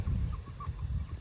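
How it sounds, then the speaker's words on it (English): Meat chickens cluck softly and continuously in a low, close murmur of overlapping calls, a busy flock of broiler birds with no one talking. "I just wanted to show you how well the meat birds are doing."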